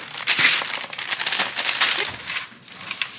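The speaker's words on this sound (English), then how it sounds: "Got a whole bunch of chocolate right here we need to mix up." Chocolate being stirred and mixed in a bowl for a Valentine's and St Patrick's Day treat, a steady close crinkly scraping and crunching that runs throughout, with no voices.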